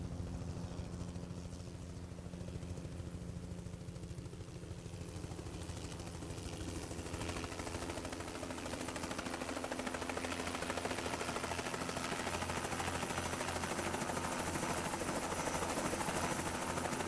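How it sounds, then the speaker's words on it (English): A helicopter in American Truck Simulator roars steadily with a dense whirring rotor and engine drone, growing louder and brighter as it passes overhead, continuous with no talking. "I don't know if this is the maneuvers these choppers do in real life"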